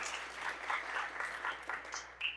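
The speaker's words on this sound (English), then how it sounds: "We can get some claps for them." Audience applause for partner sponsors at a Pridefest storytelling event in a taphouse, a light, steady patter of clapping from a modest crowd lasting a couple of seconds, with a small burst near the end.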